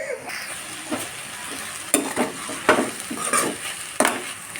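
Tomato curry fries in a pan with a low sizzle, punctuated by several sharp spoon scrapes and knocks against the metal at irregular intervals.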